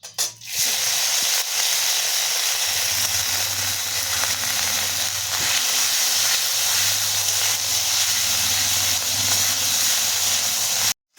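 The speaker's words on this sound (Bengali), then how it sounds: "এর মধ্যে দিয়ে দেবো আদা বাটা রসুন বাটা পেঁয়াজ বাটা" Ginger, garlic and onion pastes hiss and sizzle loudly in hot oil for a soyabean kofta curry, a close, sustained frying roar with faint clinks and no speech, stopping sharply at the end.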